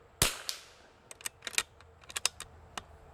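A sharp, loud rifle report at an outdoor shooting range, followed by a second fainter crack and a string of small metallic clicks and taps.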